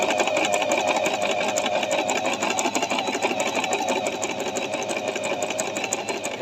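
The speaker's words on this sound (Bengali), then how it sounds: "এই এখন দেখেন আমি সেলাই করতেছি" A Singer 1408 digital sewing machine stitches steadily, a loud, continuous motor whir with a rapid needle chatter that runs throughout, no voices heard.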